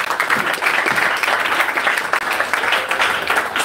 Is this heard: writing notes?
no